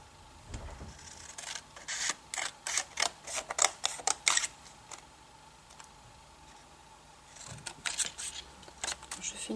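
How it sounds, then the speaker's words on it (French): Large straight scissors snip through a paper Christmas card label, a run of close, crisp cuts in quick bursts, a pause, then a few more snips. "Je vais pouvoir découper mon étiquette avec des grands ciseaux droits"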